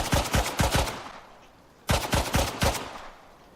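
Automatic weapon fire in the video game Icarus, two short bursts of rapid, loud shots separated by a brief pause.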